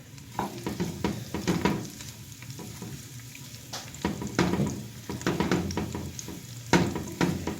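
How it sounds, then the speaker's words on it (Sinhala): Chilies, pandan, curry leaves and cinnamon bark frying in a little oil for Sri Lankan spicy mussels, a steady close sizzle broken by repeated stirring scrapes and bursts of louder crackle, with no voices. "මිරිස් රම්පේ කරපිංචා කුරුදු පොතු ඒ ඔක්කොම දාලා මම තෙලේ ටිකක් බැද ගන්නවා දැන්"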